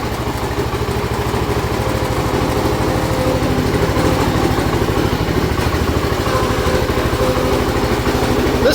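A Ford LGT 145 lawn tractor, an old machine pulled from a parts yard, runs while being driven, its small engine giving a loud, steady, close-up putter throughout without any talking.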